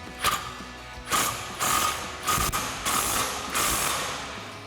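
Ratchet wrench tightening a bolt on a 3-inch leveling kit installed on a 2020-2026 Chevrolet Silverado 2500, giving five or six bursts of rapid metallic clicking in an uneven rhythm, close and fairly loud with no talking.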